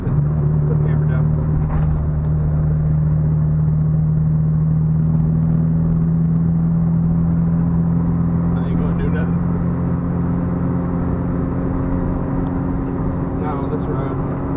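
Honda Civic Del Sol with a newly installed fuel pump driving along a road, a steady low engine drone and road rumble holding constant throughout, close and fairly loud with no voices over it.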